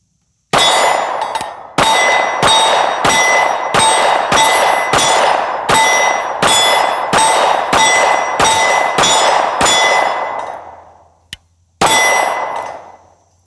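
Fifteen rounds from a Sig Sauer P365 XL pistol striking a steel plate, loud sharp clangs in a quick steady string, each ringing metallic tail cut by the next, then a pause and one final ringing hit.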